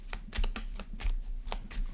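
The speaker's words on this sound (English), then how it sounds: "One more shuffle here." Tarot cards riffle and snap through a shuffle in quick bursts, close and crisp, about half a dozen flutters with no talk.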